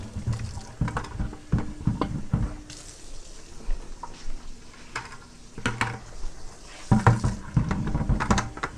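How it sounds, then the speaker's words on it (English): Hot tap water sloshes and splashes inside a bucket being rinsed out, with uneven bursts of swirling liquid and occasional knocks of the container, fairly close and with no talking. "Rinse it out with some hot water."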